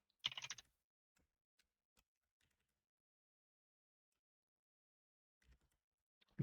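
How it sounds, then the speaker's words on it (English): Computer keyboard and mouse in use: a burst of typing followed by sparse isolated clicks and taps over near silence, close and quiet. "Gotta get that ASMR with the keyboard and the mouse."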